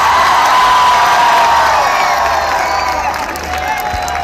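A large crowd at an Imran Khan political rally in Faisalabad cheers, whoops and applauds continuously. The sound is loud and dense, easing slightly toward the end.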